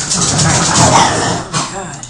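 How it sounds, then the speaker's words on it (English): Dog barking in a room behind a person playing a computer game, a few muffled barks blended with steady background noise and brief speech. "Be quiet. Dog, somebody chill out."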